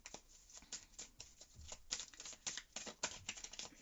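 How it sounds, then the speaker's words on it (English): A deck of tarot cards is shuffled close up in a quiet room, a soft, steady riffling and rustling with repeated sharp flicks, fairly faint and with no talk. "we're going to shuffle the deck for you"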